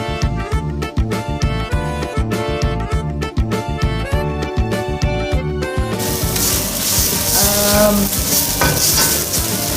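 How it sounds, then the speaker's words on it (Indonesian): Crushed spices, leaves and coriander sauté in a pan for a Batak cassava leaf curry; rhythmic stirring clatters at first, then a loud, even sizzle takes over with no talking. "Jadi aku tumis bumbunya itu sampai wangi."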